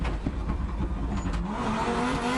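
A rally car engine revs hard, rising and dropping in quick bursts as the driver works the throttle through rapid gear shifts, with a faint tire squeal, loud and continuous with no voices.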